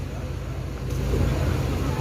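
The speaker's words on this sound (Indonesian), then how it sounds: "Ini bus ANS Fenomena." Low engine drone of an ANS Fenomena bus swells slightly louder halfway through, a close, continuous rumble amid traffic and background chatter.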